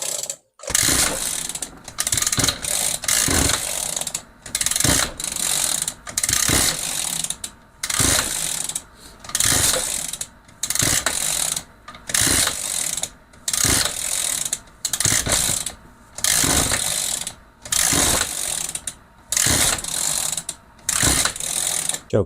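A small Echo GT-200 string trimmer two-stroke engine, just back from carburetor repair and running on choke, roars close and loud in rapid surging bursts separated by short dips.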